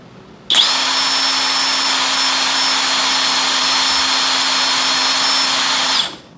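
A Dongcheng cordless brushless impact wrench free-runs at its lowest speed setting, a steady loud whir held for about five and a half seconds with a constant tone, starting and stopping abruptly.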